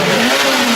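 A cartoon truck engine revs hard in a short, loud, steady burst with no talking over it.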